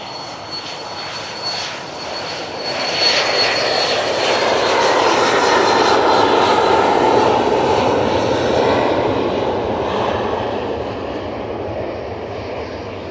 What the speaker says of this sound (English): PC-24 on the roll.